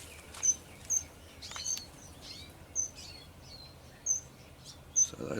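Red siskins give short, high chirps, repeated at irregular intervals over a faint, steady background of insect-like hiss. The calls are thin and fairly close.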